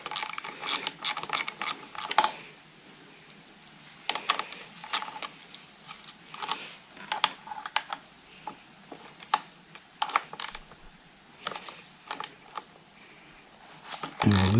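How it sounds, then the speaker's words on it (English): Ratchet wrench loosening a 10mm nut on a Suzuki DR650 motorcycle, rapid clicking pawl bursts in irregular runs with brief pauses, close and fairly loud, no talking. "Just need to undo this 10mm nut."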